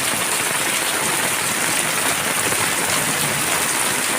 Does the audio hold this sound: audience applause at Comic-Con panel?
no